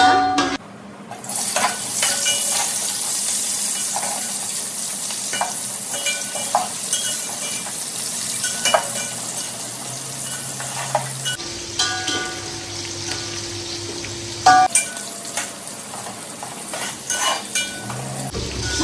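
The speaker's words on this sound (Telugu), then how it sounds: "ఉల్లిపాయలు లైట్గా రెడ్ అవ్వాలా, కొంచెం బ్రౌన్ షేడ్ వచ్చేంత వరకు కలుపుకోవాలి మనం" Onions for mutton dum biryani frying in a pot: a steady, loud sizzle runs throughout while a spoon stirs and scrapes with scattered clanks against the metal, close up with no talking.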